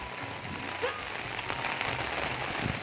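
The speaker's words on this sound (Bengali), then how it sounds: "খুব জোর বৃষ্টি পড়ছে হাওয়া দিচ্ছে" Heavy rain pours down in a dense, steady hiss, with scattered patters and splashes throughout; no voices.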